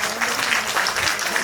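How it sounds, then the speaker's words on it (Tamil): Crowd applause at a birthday celebration and commemorative book release ceremony forms a brief, dense, fairly loud wash of many hands clapping, with some voices underneath. "கைதட்டு சத்தத்தையே காணுங்க."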